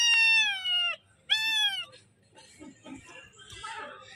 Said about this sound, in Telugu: ఫ్రెండ్స్ చూడండి, పిల్లి